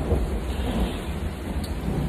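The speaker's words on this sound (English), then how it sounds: "Is that gonna thunder? Ooh, that sounds so pretty." Thunderstorm with rain pattering steadily on a surface while low thunder rumbles continuously underneath, a dense, moderately loud storm ambience with no voices.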